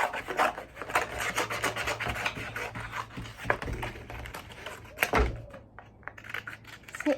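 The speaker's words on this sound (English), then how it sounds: "So I'll cut this out and I'll show you a little tip to cutting out the eyes in the middle." Scissors cut through thin cereal-box cardboard for a Halloween mask, producing close, uneven rasping snips and scrapes with brief pauses between cuts.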